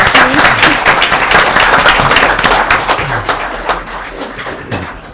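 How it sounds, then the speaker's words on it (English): Applause from the audience at a school district governing board meeting honoring a high school drama program, dense clapping that swells early and then tapers off over several seconds. "And that deserves another applause."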